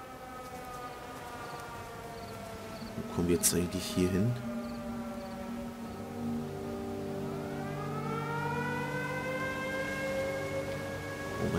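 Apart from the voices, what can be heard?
sirens still wailing, from the video game Everybody's Gone to the Rapture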